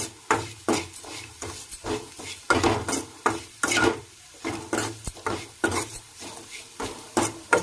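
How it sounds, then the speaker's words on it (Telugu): Chili powder and coriander powder fry in a pan, with a spoon scraping and stirring in quick, repeated strokes that give a rhythmic rasping over a faint sizzle, close and fairly loud. "ఇప్పుడు కారము, కొంచెం ధనియాల పొడి. కొద్దిగా సేపు వేయించుకుంటే సరిపోతుంది."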